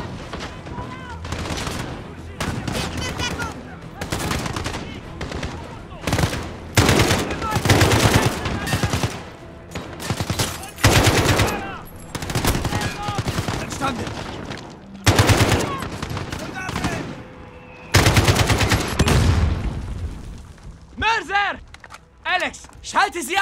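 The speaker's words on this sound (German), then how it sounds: "Sie schießen." Machine gun fire in the video game Call of Duty Modern Warfare, delivered in repeated loud bursts separated by brief pauses, with footsteps and occasional booms between volleys.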